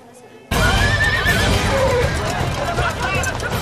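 Horses whinny loudly during a buzkashi match in Afghanistan, where hundreds of riders battle over a dead goat. Hooves clip-clop and a crowd murmurs beneath the neighing, which starts abruptly after a quiet half-second.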